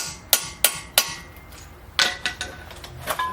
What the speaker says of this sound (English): just put it in there and just give it a little bit of a hammer